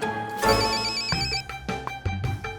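A mobile phone rings out an SMS notification, a bright electronic ringtone with repeated tonal pulses, fairly close and clear with no talking over it.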